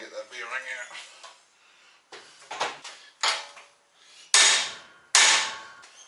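A hammer strikes a front wheel bearing from a Mazda CX-7, held in a vise, sending out loud metallic impacts in irregular bursts. The later blows come sharp and ringing, and a voice can be heard early on.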